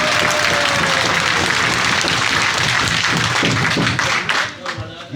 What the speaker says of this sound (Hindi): तो ताली बजाओ भाई।